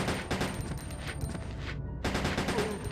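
Handgun fire in Resident Evil: Code Veronica X comes as a steady, loud run of rapid shots with almost no pause.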